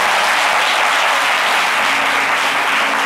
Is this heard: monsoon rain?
no